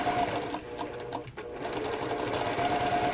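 A sewing machine runs steadily along a quarter-inch quilting seam while piecing blocks, a continuous close whir with a brief dip near the middle as stitching slows, then resumes at full speed.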